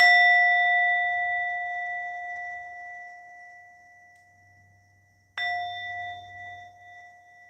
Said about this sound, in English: This is a singing bell.